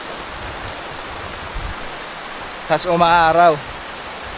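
Steady rain hisses evenly across a river fishing spot, and near the end a person briefly speaks over it.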